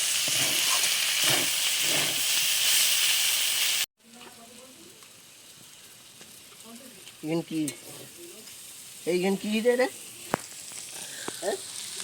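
Loud oil sizzling of pointed gourd and potatoes fills the first few seconds, then drops to a softer frying hiss as more refined oil is added while a person talks over it.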